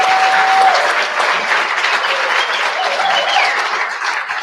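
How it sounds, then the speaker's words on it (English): A conference audience in a main hall applauds the organizers with loud, sustained clapping that holds steady throughout, with a brief tone audible at the start. "Can we please give a round of applause to this people?"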